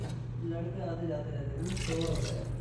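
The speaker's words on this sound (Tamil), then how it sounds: "ஸோ நம்ம இப்போ தண்ணி ஊற்றிடலாம்." Water trickles and splashes as it is poured into a pot of chickpea gravy, a soft liquid gurgle beneath a person talking.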